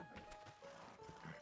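Horse archers' mounts move in Age of Empires, quiet rhythmic clip-clop hoofbeats faint in the game mix.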